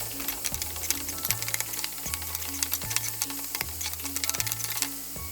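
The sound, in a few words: onion, tomato and curry leaves frying in tempering oil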